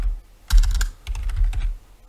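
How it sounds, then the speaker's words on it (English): Fingers tap a computer keyboard in two quick bursts of close clicking with a short pause between, recorded at a desk. "Oops, not good at typing."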